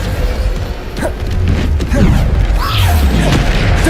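Bombarda blasting spell explosions in the video game Hogwarts Legacy boom steadily in a continuous, loud barrage of crashes and thuds, with a voice briefly heard amid the combat noise.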